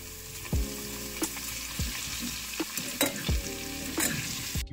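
Bacon and garlic sizzle steadily in a hot pan while a utensil scrapes and clacks against it every second or so, close and clear.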